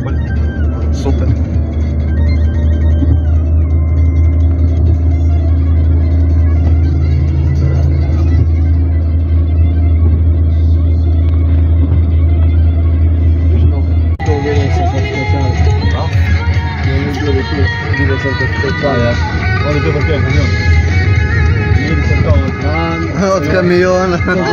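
A truck rumbles past inside a long new tunnel as a low, heavy roar that fills the first half, then gives way to brighter road noise, while people talk in the vehicle throughout.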